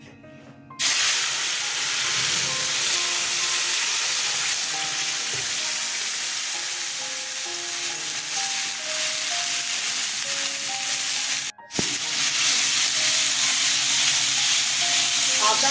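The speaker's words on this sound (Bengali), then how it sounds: "লঙ্কা আদা পেঁয়াজ ছেড়ে দিচ্ছি আদা" Green chili, ginger and onion hit hot oil after a cumin tempering in a pan for a fish curry, setting off a loud, steady, close sizzle that briefly cuts out near the end before surging back.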